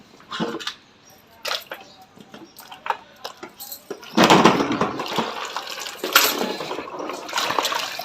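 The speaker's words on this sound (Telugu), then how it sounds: "ఇప్పుడైతే మంచిగా వాటర్లో అయితే వేసుకొని క్లీన్ అయితే చేసుకుంటున్నాం" Raw tamarind being washed by hand in a vessel of water, with intermittent splashes and sloshing bursts that grow louder and more continuous toward the end, close up.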